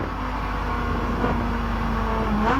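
A Group A BMW race car at the 1984 Bathurst 1000, its engine droning loud and steady as it runs past, with a rising rev near the end.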